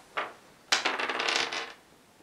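A die rolls across a table during a German Das Schwarze Auge tabletop role-playing session, with a light tap and then a close, quiet clattering rattle lasting about a second before it settles.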